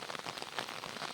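Steady rain falling in the mountains during monsoon season, a dense even hiss of drops on surfaces with no pauses, moderately loud and alone.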